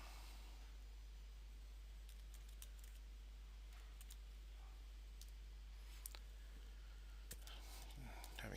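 Sparse, faint key clicks of someone typing at a computer keyboard come in irregular bursts, with a few sharper taps near the end over a quiet hum.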